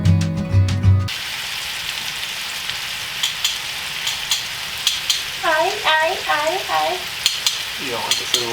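Beef stroganoff sizzles and crackles steadily in a hot pan, with scattered pops and stirring scrapes; a short musical sting opens before the frying takes over.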